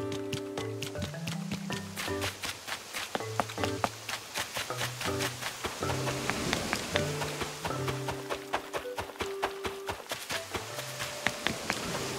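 Rain falls in the video game Animal Crossing: New Horizons as a steady, dense patter and hiss. Soft melodic game music plays throughout beneath it.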